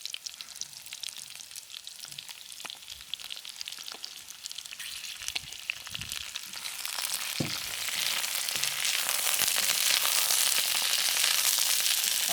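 Vegetables and tofu fry in a wok for a Chinese Buddha's Delight dish, a steady close sizzle that grows louder and brighter partway through, with occasional soft stirring knocks.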